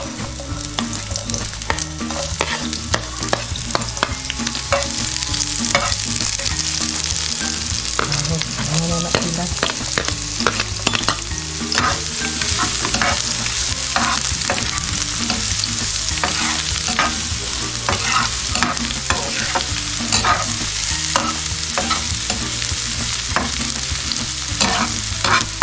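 Onions frying in a pan make a loud, steady sizzle for the whole stretch, while a spatula stirs and scrapes in repeated quick strokes, close up and with no one speaking.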